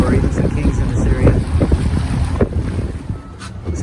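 A fishing boat slow-trolls at two to three knots close to shore on an inland waterway, its engine drone and hull splash mixing with steady wind buffeting the microphone and lapping water throughout.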